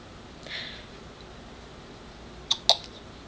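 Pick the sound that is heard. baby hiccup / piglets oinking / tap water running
baby hiccup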